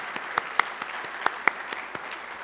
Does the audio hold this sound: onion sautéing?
no